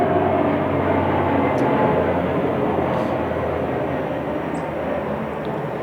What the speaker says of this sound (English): I'm going to wait for the airplane to pass.